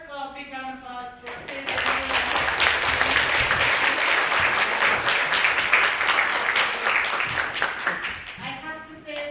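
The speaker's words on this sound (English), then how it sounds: "big round of applause for" An audience at a Japan-America Society anniversary event applauds a professor, full dense clapping that rises after a moment of speech and holds strongly before fading into talk again.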